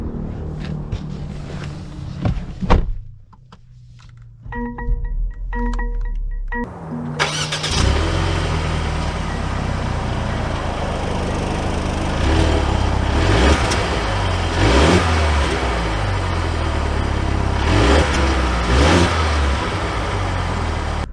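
A 2022 Mercedes GLE 350 4Matic luxury SUV starts up after a quiet pause, then pulls away with a steady engine and road rumble that builds and holds, with brief dips and swells as it drives.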